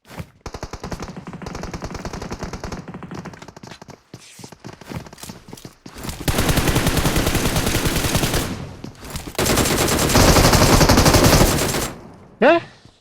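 Gunfire in a Free Fire match: rapid automatic bursts rattle in long, loud stretches, broken by shorter clusters of shots and a closing whoosh-like effect, with game sounds throughout.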